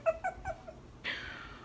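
A pet cat meows softly several times in quick succession, close by and fairly quiet, followed by a brief breathy hiss or rustle.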